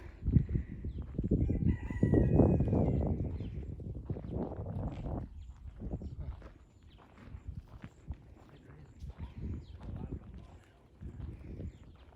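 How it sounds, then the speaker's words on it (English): A rooster crows and chickens cluck amid footsteps outdoors on a flower farm, with people talking nearby over the birds. "Look at all the chickens."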